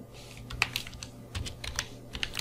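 Keystrokes on a computer keyboard while HTML code for a button tag is written, an irregular run of crisp, close clicks and taps with small pauses between bursts, no voices over them.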